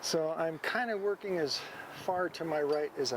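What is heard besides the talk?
No everyday noises stand out.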